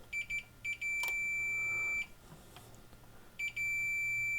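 Short electronic continuity beeps from a multimeter probing the back of a MOSFET during a bench power supply repair, a few clipped chirps followed by a sustained tone, then silence and another short burst, close and clear.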